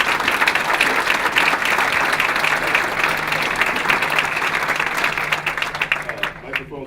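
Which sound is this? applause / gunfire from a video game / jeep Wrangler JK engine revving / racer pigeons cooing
applause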